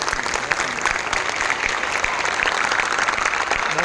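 Loud, continuous applause from the audience at a Hindi poetry recital, dense steady clapping with a few sharper claps standing out and a voice faintly beneath it.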